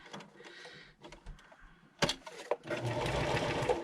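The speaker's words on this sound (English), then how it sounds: "Oh, the trials and tribulations of this old sewing machine." An old sewing machine runs in bursts of rapid mechanical stitching through paper, with clicks and a loud clatter before it settles into a steady whirring run.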